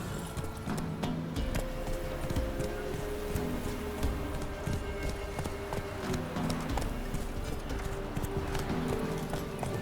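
Horse hooves galloping in The Witcher 3 video game: a steady, rhythmic clip-clop of hoofbeats that runs the whole way through, close and even, over a constant bed of in-game ambience.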